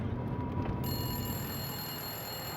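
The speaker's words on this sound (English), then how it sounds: "The phone had begun ringing at exactly 7 p.m." A telephone rings in a dramatized abduction case scene, a steady electronic trill held at moderate level over a low background rumble.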